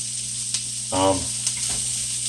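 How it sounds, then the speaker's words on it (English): Onions sauté in a pan with a soft, steady sizzle under a constant hum, interrupted by a brief louder scrape of stirring partway through. "you want to cook these onions until they're nice and glistening and translucent"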